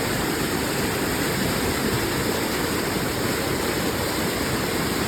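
A rainwater stream rushes through the Konkan countryside during a heavy downpour, a steady, loud, unbroken watery roar with no voices.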